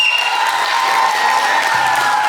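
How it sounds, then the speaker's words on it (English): Audience applause and cheering welcoming a regional vice president at a Greenville event, a steady loud wash of clapping filling the room, with a faint voice low underneath near the end. "Let's give him a big round of applause"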